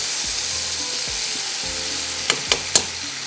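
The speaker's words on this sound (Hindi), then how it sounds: "थोड़ा सा इसको हम इस तरह से भूनेंगे" Onions and garam masala frying for yakhni pulao, an even bright sizzle close by with low stirring scrapes, then three quick sharp clinks near the end, with no speech.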